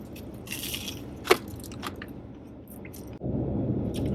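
A single sharp crunch from a bite into a crispy, cheesy Taco Bell chalupa, followed by quieter rustling and chewing noises close to the mic.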